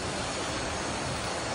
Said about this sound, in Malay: dengar tu bunyi sungai yang mengalir di hadapan ni.